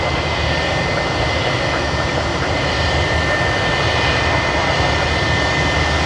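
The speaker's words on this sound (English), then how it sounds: "QF44 that's coming in from Denpasar that I mentioned earlier, they are about to touch down on runway 34L" A Qantas jet arriving from Denpasar on flight QF44 touches down on runway 34L at Sydney Airport, its engines giving a loud, steady roar that fills the whole stretch without a break.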